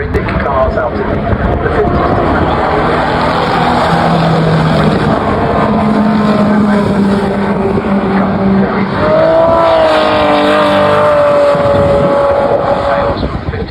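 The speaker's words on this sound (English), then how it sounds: "Straight six Jaguar Indy cars out of the 50s" 1950s straight-six Jaguar Indy race cars at Brands Hatch, loud continuous engine roar with a rising gear-change whine as a car passes, under a spoken commentary voice throughout.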